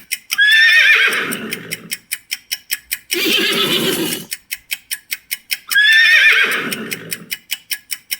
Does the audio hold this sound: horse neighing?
yes